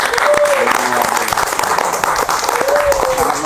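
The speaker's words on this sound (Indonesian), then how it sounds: "Oke, kita kasih tepuk tangan." A studio audience claps during a talk-show interview, a loud, continuous spatter of many hands with a voice and a brief tonal sound riding over it.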